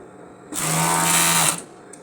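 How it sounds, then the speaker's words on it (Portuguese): Overlock sewing machine running in one steady burst of about a second while closing the shoulder seams of a polo shirt, a close, even whir with a low hum, alone. "Na overlock, iniciei fechando os ombros."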